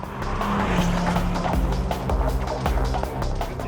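Ford Focus RS driven hard around Zwartkops Raceway, a loud, continuous engine roar with rising and shifting tones and bursts of tire noise, close and steady throughout.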